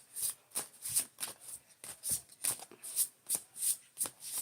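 Oracle cards are shuffled by hand in quiet, close bursts of soft riffling and slapping, repeating in a fairly even rhythm with short pauses between.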